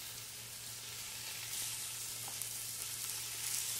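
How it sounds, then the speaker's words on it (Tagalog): Beef searing in a hot pan for beef mechado, a steady, even sizzle of frying meat that stays constant throughout with no talking. "This is the process of searing the meat and locking up the flavor of the beef."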